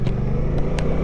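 A Suzuki GSX-8R motorcycle pulls away, its engine a steady, loud low drone with a few short higher whines riding on top.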